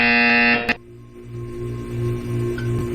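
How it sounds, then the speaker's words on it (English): A loud, steady electronic buzzer tone sounds in a Portal 2 test chamber and cuts off sharply, leaving a quieter low mechanical hum with a soft periodic pulsing. "When you hear the buzzer, look up at the ceiling."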